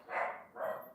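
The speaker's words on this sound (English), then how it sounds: "Sorry about the dog barking." A dog gives two quick barks indoors in a building, moderately faint and somewhat distant, with a short gap between them.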